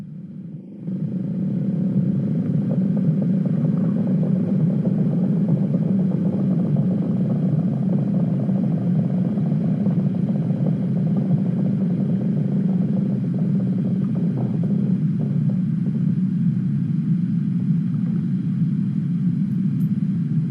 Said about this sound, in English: The sound you're hearing there is an Icelandic glacier.